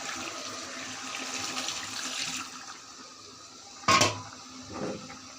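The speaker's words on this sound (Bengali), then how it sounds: "এখন আমি হালকা ঝোল দিয়ে দিব।" Water poured into a bottle gourd and fish curry for broth, a soft running splash for a few seconds, then a short loud splash and a faint trailing trickle, with no talking over it.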